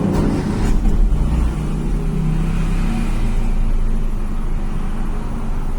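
A Timor car engine idles steadily at about 800 RPM, a loud, close, continuous low rumble with no talking over it.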